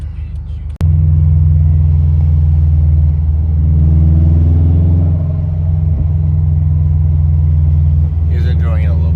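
A Subaru WRX with a full E85 tune idles close by, a loud, steady low rumble that starts abruptly and holds throughout, with brief talk near the end.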